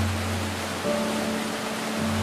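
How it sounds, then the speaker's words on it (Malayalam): Charpa waterfall near Athirappilly, a steady, dense roar of falling water that stays even and continuous throughout with no voices. "അതിരപ്പള്ളി ജലപാതത്തിന് അധികം അകലെയല്ലാതെയാണ് ചാർപ്പക്കുത്ത് എന്ന് തദ്ദേശീയർ വിശേഷിപ്പിക്കുന്ന ചാർപ്പാ വെള്ളച്ചാട്ടം"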